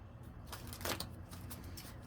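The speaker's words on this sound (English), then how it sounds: "I want to shuffle them really good, really quick." An oversized tarot deck, split in half and shuffled quickly, gives one brief, faint riffle of flapping cards with a light rustle before and after.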